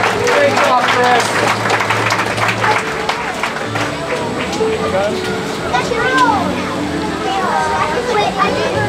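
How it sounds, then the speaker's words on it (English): Passengers aboard the Dollywood train in the Smoky Mountains applaud the conductor, clapping and cheering mixed with excited voices and a low rumble, loud and close throughout. "Everyone give Conductor Chris a big round of applause"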